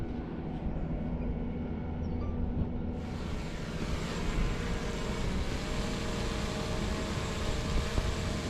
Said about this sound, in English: Gary set up the drone, and we're just about to take off.